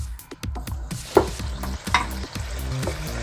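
Tamarind-laced pickle mixture bubbling and sizzling in a pan, close and fairly loud, with a few sharp spoon scrapes and pops over a low rumble.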